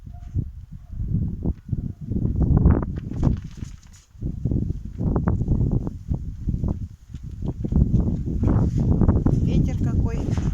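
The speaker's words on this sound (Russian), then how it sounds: "Ветер какой." Gusty wind buffets the microphone in a cold, rainy backyard, loud rumbling bursts rising and falling in uneven waves with only brief lulls.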